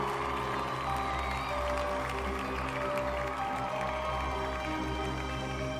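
Villagers cheer loudly as a crowd celebrates decisive winners of a boxing match, a steady wash of voices and applause-like noise filling the whole stretch at even loudness with a constant low hum underneath.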